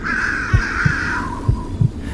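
A crow caws in a drawn-out, harsh call over a low background hum, with a few soft thumps beneath.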